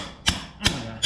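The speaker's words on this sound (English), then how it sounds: "using like a bunch of different things to hammer through and scrape" Three sharp metallic hammer strikes at a steady spacing, close and fairly loud, on a motorcycle part during an oil change, with faint scraping between blows.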